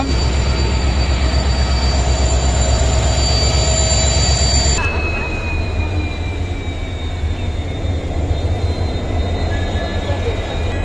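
Loud, steady rumble of the Yesvantpur–Mangaluru Express with attached banker locomotives, engines droning and faint high wheel squeal, continuous and close throughout.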